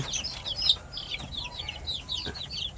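Incubator-hatched chicks on a duck farm cheep in rapid, high-pitched overlapping peeps, a busy chorus of small birds close by with no talking.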